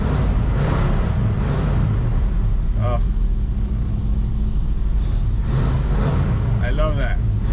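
Several cars started up on a cold morning, with a continuous loud low engine rumble and revving throughout, brief higher whine-like tones near the middle and end, and people talking faintly in the background.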